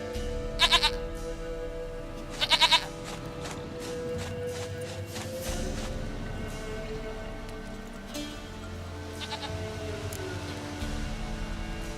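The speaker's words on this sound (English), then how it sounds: "Goat of mine, dearest, sweetest goat." A goat in the video game The Witcher 3 bleats twice in quick, wavering calls early on, over a steady outdoor ambience of soft rain and wind.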